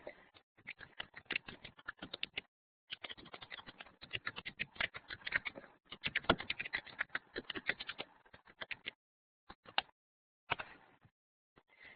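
Irregular bursts of soft, close clicking from a computer keyboard, with quick runs of keystrokes broken by short pauses and a few isolated taps near the end.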